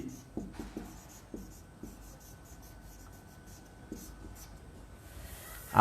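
Pen writing an accounting ledger entry by hand, a soft scratchy stroking on paper with short taps and pauses, close and quiet throughout.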